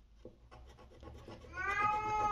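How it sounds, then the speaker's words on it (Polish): A cat gives one rising, drawn-out meow close by near the end, after a stretch of soft rubbing and scraping noises. "no mi kot oczywiście dopinguje, dzielnie"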